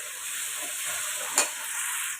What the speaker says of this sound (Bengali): মশলাটা দিয়ে দিলাম, একটু ভাজা ভাজা হলো।